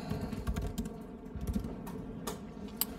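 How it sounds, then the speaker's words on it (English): Rapid, uneven clicking of a computer keyboard being typed on close by, steady clatter with a few louder key strikes and no talking. "Can't type on my own keyboard."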